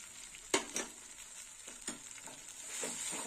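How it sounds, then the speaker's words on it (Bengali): Karela sukto with dried chili paste and fenugreek paste is stirred in a pan: a soft background sizzle broken by several sharp spatula scrapes, some louder than others, spaced irregularly. "আর একটু নেড়ে চেড়ে নেবো।"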